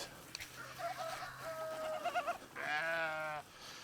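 Goats bleating on a farm, with chickens about: several loud, wavering bleats overlap in quick succession, the last one long and drawn out, all close to the microphone with no talking.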